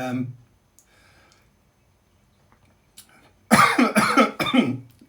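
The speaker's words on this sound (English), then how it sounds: "the liquor makes me cough" After a brief sound and a stretch of near silence, a person nearby coughs several times in a quick, harsh burst after sipping a Sidecar cocktail.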